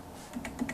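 A computer keyboard clacks with a few light, quick keystrokes, faint and close, with no voice over them.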